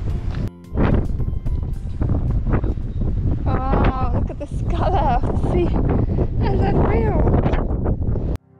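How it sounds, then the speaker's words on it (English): Strong wind buffets the microphone with a loud, steady low rumble atop the Palamidi fortress in Nafplio, Greece, while people talk intermittently over it. "it was really windy up on the fortress"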